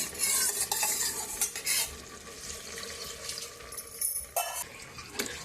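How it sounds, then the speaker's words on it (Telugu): A spoon stirs a ragi flour mixture in a pot while making ragi bisibelebath, giving steady close scraping and swishing strokes with brief clinks and a faint sizzle underneath, continuing throughout. "ఈ గిన్నె కలిపి మళ్ళీ పోస్తున్నాను నీళ్ళు"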